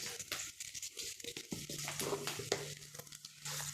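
Onion and chayote sizzling in a pan, a soft crackling fry with brief stirring scrapes over a low steady hiss, close and fairly quiet.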